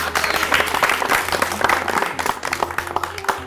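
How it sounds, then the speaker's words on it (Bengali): A group clapping together in a room, dense applause with individual claps audible, steady throughout with a low hum beneath. "সবাই হাততালি দেন।"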